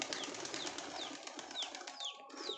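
Pigeons feeding together outdoors near a small pool, with repeated short calls and wing sounds over a steady, fairly busy background of soft bird noise.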